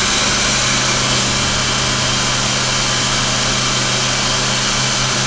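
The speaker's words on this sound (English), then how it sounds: "this is the super dry hand dryer" A Super Dry hand dryer runs loud and close with a constant motor whine and a forceful air roar, unbroken for the whole stretch.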